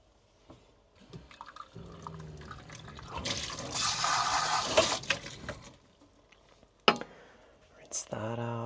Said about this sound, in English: Pour that right over the ice so it gets that little shock.